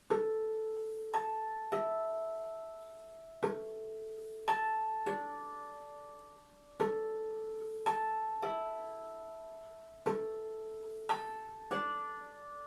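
Soft, bell-like harp harmonics plucked one at a time with the thumb in a slow, uneven pattern, each note quickly damped with the knuckle, quiet and close.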